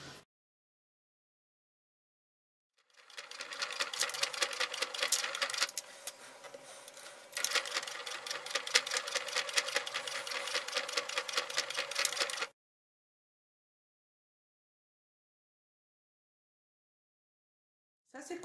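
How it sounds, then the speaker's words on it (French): A sewing machine stitching fabric for a multi-pocket card holder runs in a close, rapid mechanical clatter for about nine seconds, with a brief slowdown midway, between stretches of silence. "On coud directement ici sur le tissu"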